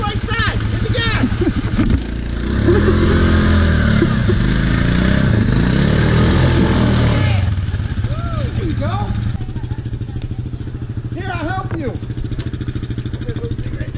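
A four-wheel-drive vehicle revs hard through mud at a mud event, its engine roaring loud and close with surging and wavering pitch. People shout over it.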